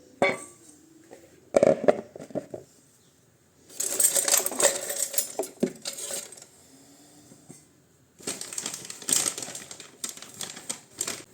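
A small metal cooking pot is handled while codfish is prepared in a home kitchen, giving quiet bursts of metallic clattering and tapping in several separate spells, with near-silent gaps between them.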